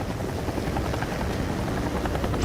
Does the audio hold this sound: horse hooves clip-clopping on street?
no